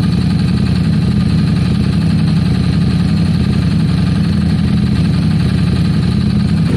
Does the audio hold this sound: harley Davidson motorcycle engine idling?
yes